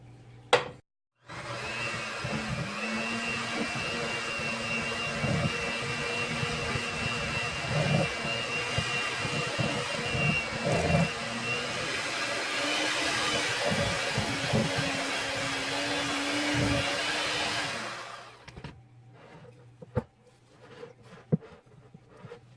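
Electric mixer beating flour into pecan Breton biscuit dough, a steady loud whirring hum for about seventeen seconds that then stops, leaving a few light knocks.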